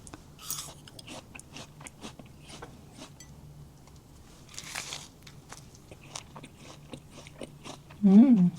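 Someone eats a breakfast served with tangerine jam and hummus, with close, crisp bites and steady chewing crunches repeating throughout and one louder burst near the end.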